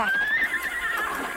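A horse lets out a loud, drawn-out neigh over the clip-clop of hooves, close and brief, in an animated Tom Sawyer adventure.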